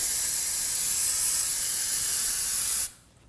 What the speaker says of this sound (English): use some brake parts cleaner and spray the area